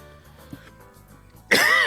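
A player streaming an OFCRA CRBN versus Outpost 1 Life PvP match breaks into a sudden, loud, harsh cough near the end, jumping out above a quieter, steady game background.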